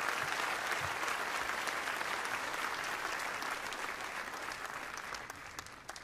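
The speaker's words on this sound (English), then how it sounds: "You can applaud." Audience at a concert for Yamaha's 125th anniversary applauds in a dense, sustained wash of clapping that slowly tapers off over six seconds.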